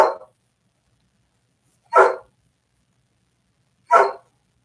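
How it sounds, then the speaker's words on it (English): A dog in a hallway barks three times in single sharp bursts spaced about two seconds apart, fairly close and loud, with silence between each bark. "I think the barking's worse than the whining."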